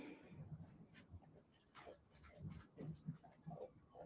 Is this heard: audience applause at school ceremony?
no